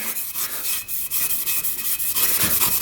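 A Scotch-Brite scouring pad scuffs around the bore of a 400cc dirt bike cylinder, giving a steady close-up abrasive rubbing with rhythmic strokes that grows slightly louder toward the end.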